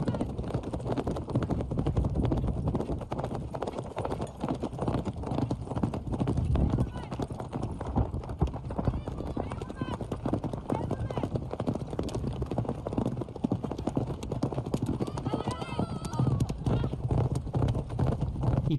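A horse's hooves clip-clop in a steady, close rhythm while it performs a trick, continuing throughout beneath almost constant talking.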